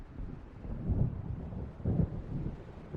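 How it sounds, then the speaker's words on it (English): Low, rumbling thunder from an approaching storm in the Alan Wake game, rolling in two swells under a steady windy wash, moderately distant and not very loud. "It seems there's a storm coming"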